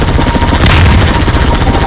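Loud, sustained automatic gunfire in Half-Life 2 aimed at a target, a dense rapid stream of shots filling the whole moment with no pauses.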